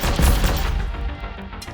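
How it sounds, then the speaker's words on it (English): Autocannon firing in the game Mainframe Defenders, a quick burst of heavy thudding shots with booming low end, loud at the start and trailing off into a fading rumble. "No, we have to use the autocannon."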